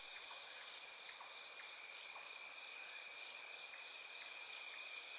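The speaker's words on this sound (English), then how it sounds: "Got this cricket noise." Crickets chirp in a nighttime scene from the game Night in the Woods, with steady high-pitched trilling bands and soft faint clicks repeating at intervals, quiet and alone without speech.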